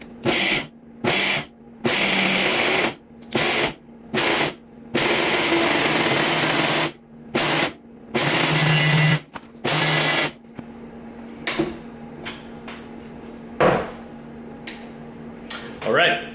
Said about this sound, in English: Blender almost ran away on me, but we got it.